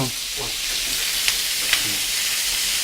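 Pasta with chicken reheating in a pan at home, giving a steady soft sizzle and hiss with a couple of brief clinks of stirring, close and alone without talk.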